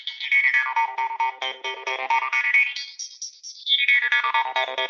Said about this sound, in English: But if I do that while I play the harp, it sounds like this.